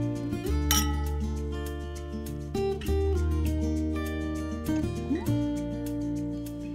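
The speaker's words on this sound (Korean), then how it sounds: "오늘부터 1일차니까 건배." Wine glasses clink in a toast at a cozy home date dinner, a bright chime rising over loud, steady background music with no talking.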